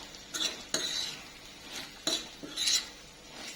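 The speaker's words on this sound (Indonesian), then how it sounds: "Lalu diaduk-aduk sebentar" A spoon scrapes and clinks against a pan while green chili sambal, Padang style, is stirred briefly. A few close, crisp scraping strokes come in short bursts with a faint sizzle between them.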